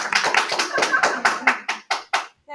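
A short round of clapping from a small group in a classroom, about a dozen crisp, close claps in quick succession that slow and thin out before stopping.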